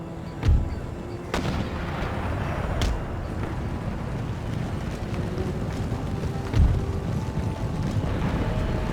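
Cannon and musket fire in Empire: Total War: a few deep, distant booms at irregular intervals stand out over a constant rumbling battle din that resembles wind, with no voices.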